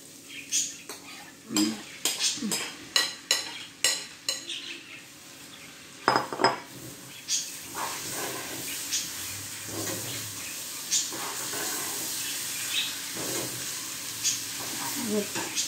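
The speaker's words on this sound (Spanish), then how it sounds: "ya que el arroz está sofrito, le vamos a agregar los frijoles" Beans stirred into sizzling sautéed rice with garlic in a pan for a Honduran coconut casado: a run of sharp metal spoon clanks against the pan gives way to a steady, close frying hiss.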